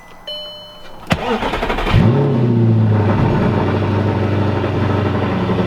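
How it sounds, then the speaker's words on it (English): An Audi R8 cold-starts on a chilly day: a sharp click and starter crank, then the engine catches with a loud bark and settles into a high, steady idle. "Hey, nice little cold start action, and it's cold in my opinion"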